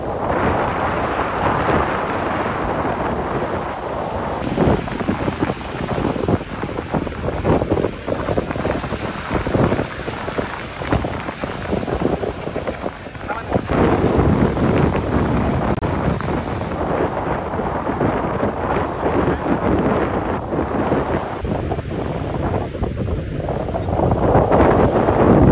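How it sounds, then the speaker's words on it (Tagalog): Continuous rushing wind buffets the microphone over a steady roar of surf, with waves surging and breaking in broad swells throughout, on Patnanungan Island, Quezon Province. "Pakinggan nyo na lang ang hampas ng alon at simoy ng hangin"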